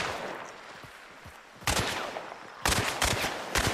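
Two bursts of loud gunfire from a double chain pistol in Hunt: Showdown, a rapid crackling volley followed by another about a second later. A quieter, muffled stretch comes before them.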